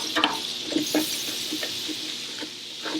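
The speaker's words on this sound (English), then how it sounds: "Get that nice and melted. And what we want to do is scrape up all of this stuff from the bottom." Butter melts in a hot pan with a soft steady sizzle while a utensil scrapes browned bits from the bottom, giving repeated short scratchy strokes close by.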